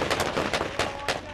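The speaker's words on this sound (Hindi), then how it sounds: "चरमपंथी भी जवाब में गोलियां डालते हैं" Gunfire from a battle between Kurdish fighters and IS militants: a rapid series of sharp shots in uneven bursts, fairly close and loud, over a dense background of combat noise.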